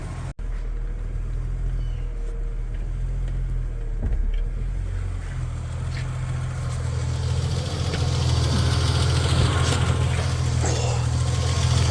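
A car engine idles steadily while its battery charges, giving a low, even rumbling hum up close. A sharp click sounds at the start, and faint background noise rises slightly toward the end.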